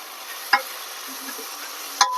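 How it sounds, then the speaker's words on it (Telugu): Cashews, almonds, tomato, onion, chilli, potato and beetroot fry in a pan with a steady, even sizzle, broken by two sharp clinks of a stirring spoon. "ఇలా ఈ ఇంగ్రీడియంట్స్ అంతా వేసుకున్న తర్వాత బాగా ఫ్రై చేసుకోవాలండి."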